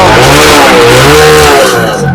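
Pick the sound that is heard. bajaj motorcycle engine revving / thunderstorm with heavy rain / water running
bajaj motorcycle engine revving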